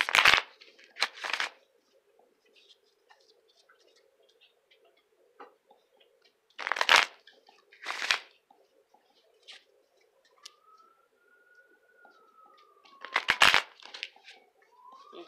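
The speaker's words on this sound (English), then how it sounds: "I'm just going to shuffle a couple times" Several short, crisp bursts of playing cards being shuffled, spaced apart with quiet pauses between, close and fairly loud.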